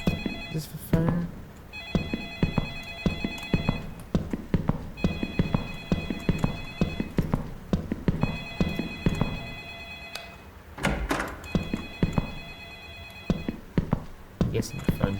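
Telephone ringing in the Light Switch video game, a loud electronic ring repeating in regular bursts over a busy, noisy background with a voice speaking throughout.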